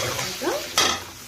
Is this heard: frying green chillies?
yes